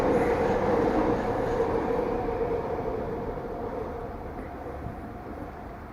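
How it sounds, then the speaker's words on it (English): A train rumbles past nearby with a steady low roar and rattling wheels, gradually fading as it moves away. "These fucking trains ever fucking stop."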